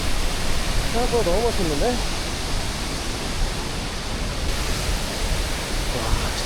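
A Sri Lankan waterfall, the Bingureyla falls, pours in a steady, enveloping roar of rushing water that fills the whole scene, while a voice speaks briefly and excitedly over it near the start.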